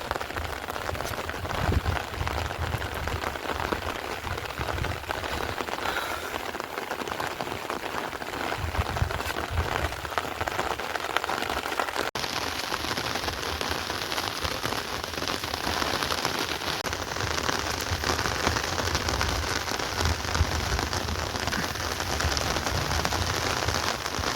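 Light, steady drizzle falls during an unseasonal winter rain in Gujarat, a soft continuous patter of fine drops on surfaces, even and unbroken throughout with no voices.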